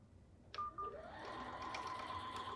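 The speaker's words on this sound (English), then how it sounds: "And it's gonna sew out the hearts." An embroidery sewing machine starts sewing out hearts, with a click followed by a steady motor whir and a thin, continuous whine that holds quietly at a close distance.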